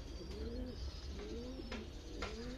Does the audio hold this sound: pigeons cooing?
yes